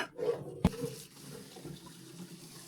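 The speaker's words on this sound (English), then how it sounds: "we'll fill her up with a bit of water and try it out" Water runs from a tap into a tank on a rural property, a steady, moderately quiet rush with one sharp knock near the start and no talking.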